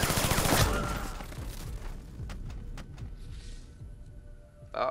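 Gunfire in Splinter Cell Blacklist: a loud burst of shooting at the start fading into a reverberant tail, followed by a few sharp isolated shots and a final crack.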